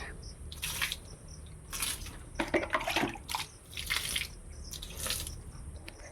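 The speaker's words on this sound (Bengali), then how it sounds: "সামনেটা একটু জল দিয়ে পরিষ্কার করব" Water splashed in bursts onto the ground to wash the front of a house after sweeping, several separate splashes and drips at moderate distance, fairly quiet, no talk.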